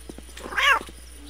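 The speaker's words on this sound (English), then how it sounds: "I think I picked up a kitty cat." A cat in the video game Postal 2 gives a single drawn-out, wailing meow. It sounds close and clear over a quiet background with faint game noises.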